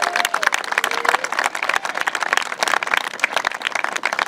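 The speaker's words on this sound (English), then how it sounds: "Give him a big round of applause" An audience at a Memorial Field ribbon cutting ceremony applauds their old coach, Coach Mack, with steady, dense clapping throughout, fairly close and continuous, with faint voices mixed in.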